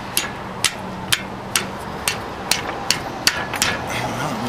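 Hand strikes knock a shaft into a 1940 Ford front end during a disc brake adapter fit: about ten sharp, evenly spaced metallic taps, close and moderately loud.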